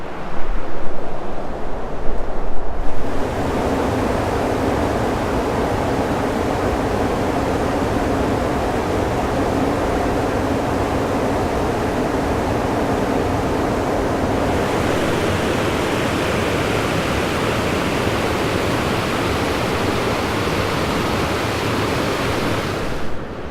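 Rushing stream water in a forest in the Loyalsock State Forest on a snowy day: a loud, steady, broadband roar of flowing water, slightly softer for the first few seconds, then continuous and close with no voices.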